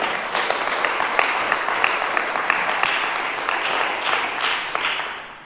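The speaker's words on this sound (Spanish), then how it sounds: "¿Por qué no le damos un fuerte aplauso a Cristo," Church congregation clapping for Christ during a sermon, a sustained, even burst of many hands at moderate distance, steady throughout with no voices over it.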